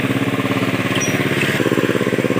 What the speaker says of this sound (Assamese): ট্ৰেক্টৰ মাৰি আছে, তাকে চাওঁ